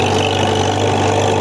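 An antique Farmall tractor engine runs steadily with throttle applied, a loud, even low drone up close, no talk.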